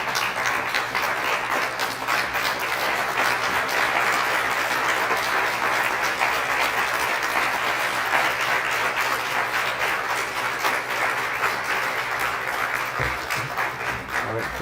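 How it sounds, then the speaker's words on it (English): A breakfast fundraiser crowd gives a standing ovation as Frank comes to the stage, dense sustained clapping holding steady for about fifteen seconds with faint murmurs beneath. "Everybody, if you can please stand up, give a big round of applause."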